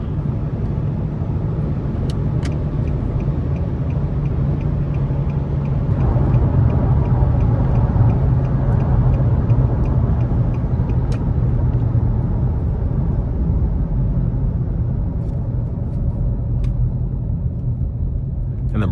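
A 2009 Nissan Frontier LE crew cab truck with a 4.0 V6 drives along, its steady low engine and road rumble heard from inside the cab, swelling slightly midway, with a few faint clicks and no talk.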